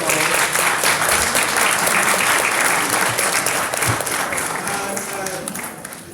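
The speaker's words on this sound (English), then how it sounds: "Could you please give them a big round of applause?" An audience at a 2018 election candidate forum gives the candidates a big round of applause, a loud sustained crowd of clapping that holds steady and then gradually tapers off toward the end.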